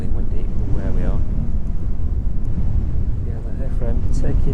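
Strong wind buffets the microphone at East Midlands Airport, a loud, rough low rumble running throughout, with a person talking over it.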